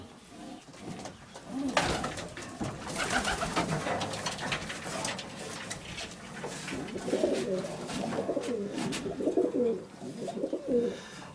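Pigeons coo repeatedly nearby, low throaty calls coming in bursts, with some rustling and flapping around them.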